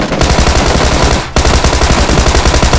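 Loud, dense automatic gunfire from a squad battle-royale shooter game, rapid bursts rattling almost continuously with a brief pause near the middle before firing resumes.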